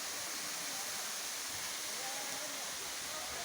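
A waterfall pours from a height on a hillside, a steady dense roar of falling water filling the air, close and continuous.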